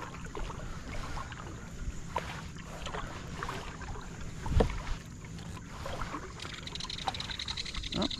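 A kayak glides over flooded beaver-dam water at sunrise, with soft intermittent paddle dips and drips, one sharper splash, and light wind noise in the background, quiet and close.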